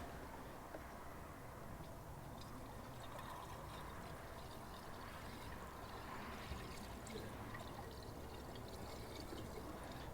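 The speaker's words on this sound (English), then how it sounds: "So we're just gonna add the coolant now" Coolant is poured steadily into the radiator of a Chevy Silverado, a continuous faint trickling wash of liquid that holds the same level throughout with no talk over it.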